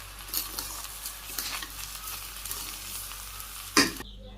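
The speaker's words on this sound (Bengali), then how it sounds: "তেজপাতা, দারচিনি, লবঙ্গ আর গোলমরিচ আমি হালকা ভাজি করে নিই" Bay leaf, cinnamon, cloves and black pepper fry lightly in hot oil in a village kitchen, giving a soft, crackling sizzle with scattered pops and a brief sharp clatter near the end, then sudden quiet.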